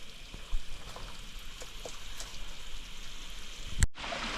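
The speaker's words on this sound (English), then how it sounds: "This is the waterfall." Water pours and splashes steadily at a waterfall along a cliff hike in the Budawangs wilderness, a dense hiss of falling drops close by, ending with a brief louder rush.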